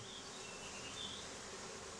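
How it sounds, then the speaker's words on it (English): Dense, continuous buzzing of many honey bees at an open beehive, a steady close hum with faint wavering as individual bees pass nearby, no voices. "Now, of course, you know there's lots of bees in here."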